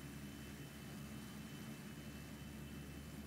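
Fokker F50 turboprop airliner climbing slowly after takeoff from Ho Chi Minh City, its engines giving a steady, even drone with no voices over it.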